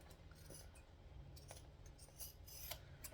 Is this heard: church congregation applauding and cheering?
no